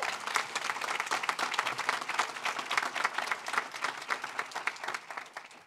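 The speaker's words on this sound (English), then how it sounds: "go ahead and clap for that" Dense audience applause at a political bill-signing event on children's social media protection, steady many-handed clapping throughout that tapers slightly at the end.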